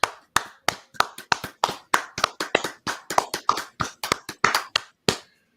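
Steady run of close hand claps from one or a few people, about twenty sharp claps at an uneven, quickening pace, with no voices.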